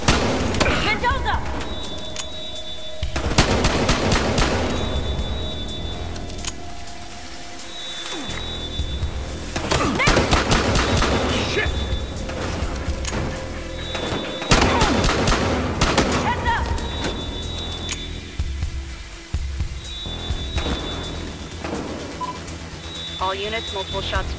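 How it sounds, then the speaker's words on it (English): Gunfire in Battlefield Hardline during a police chase up a staircase: repeated loud bursts of shots and rattling volleys over a steady game soundscape, with shouted voices between them. "All units, multiple shots fired at the location."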